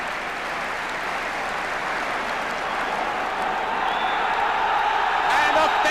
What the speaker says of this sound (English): claps him there as well